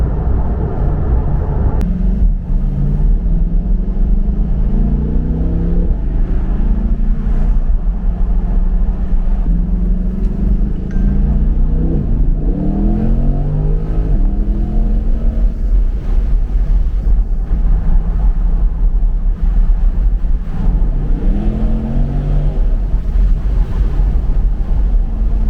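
A Chevrolet C8 Corvette drones steadily while driving, with a low engine rumble and heavy wind and road roar filling the cabin throughout, the pitch shifting now and then as it accelerates; no one speaks.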